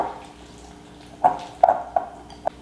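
Water is added to a hoisin and sriracha dipping sauce thinned with coconut milk. Soft splashes and drips land in the bowl, a few separate small hits over a quiet kitchen background with no talking.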